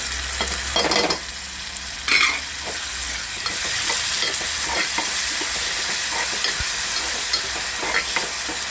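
Tomato added to a frying green chili chicken masala, a steady loud sizzle with spoon stirring and scraping against the pan, two sharper bursts early on, no talking.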